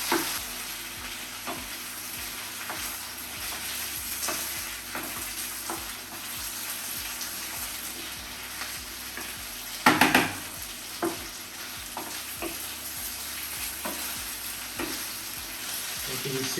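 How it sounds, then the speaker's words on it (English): Thick-cut potato slices fry in hot oil for a Spanish tortilla, a steady crackling sizzle close by with a spatula stirring and scraping through the pan, including one louder clatter, and no talking. "I'm going to use slightly thicker cut and just take those directly into the hot oil. Give that a stir."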